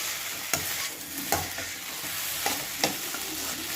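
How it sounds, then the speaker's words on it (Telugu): Sago upma being stirred in a pan with a pinch of salt gives a soft, steady sizzle, with a few sharp scraping strokes of a spoon against the pan at irregular intervals. "కొద్దిగా సాల్ట్ వేసి బాగా కలపాలి."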